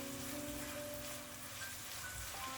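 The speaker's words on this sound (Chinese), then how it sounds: "油热之后将切好的葱花、蒜末倒进来" Chopped scallion and garlic frying in hot cooking oil in a wok, a continuous close crackling sizzle with a faint background hum and no talking.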